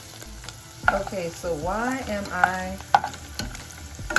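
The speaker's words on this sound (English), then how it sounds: "frying this already cooked chicken?" Oil sizzles and crackles steadily as already cooked chicken fries, with a person talking over it and occasional sharp pops.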